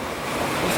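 Rough sea waves during the west monsoon season on the coast, a steady, full roar of surf and wind noise, loud and unbroken, with no voices.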